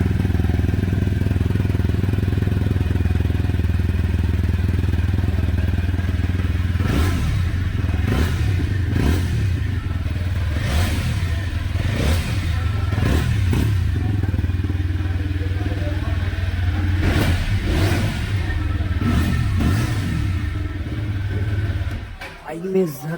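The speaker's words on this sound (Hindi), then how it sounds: "एक बार मैं आपको इसकी एग्जॉस्ट नोट सुना देता हूँ" A 2025 TVS Apache RTR 160 4V idles close by, its low exhaust note steady before a series of sharp throttle blips rise and fall in quick succession, then it drops back to idle and cuts off at the end.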